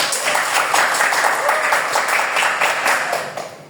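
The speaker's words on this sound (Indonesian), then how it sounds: "Tepuk tangan untuk Adel dan juga Zahra." Classroom of students clapping together in sustained applause, steady and fairly loud throughout, fading slightly at the end, with faint voices mixed in.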